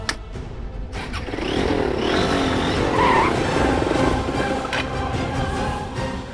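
A car racing on a public road skids with a loud, sustained tire squeal and engine roar that builds, holds for several seconds, then eases off, with no talking.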